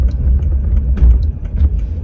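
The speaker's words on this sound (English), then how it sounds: "It is cold, so I have my heat up, so excuse the noise." A car heater blowing inside a Toyota on a cold day, a steady low fan roar with a rumbling engine-like hum underneath and small clicks and bumps, fairly loud and close, with no talking.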